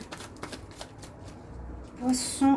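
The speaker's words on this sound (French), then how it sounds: "Je brasse un peu comme ça juste pour voir." A deck of tarot cards is shuffled by hand in quick riffling bursts, close up, ending with a couple of sharper slaps as the cards settle.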